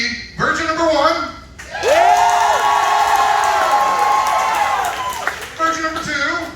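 Audience applause and cheering at a Rocky Horror Picture Show contest, loud crowd whoops and clapping swelling in a long burst between short stretches of a host talking.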